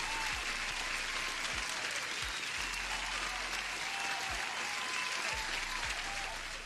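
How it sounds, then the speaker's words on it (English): Applause from a live trading stream, a continuous dense patter of clapping that holds even and fairly faint throughout, with a few low thumps underneath and no talk. "Let's give an applause for Judith too."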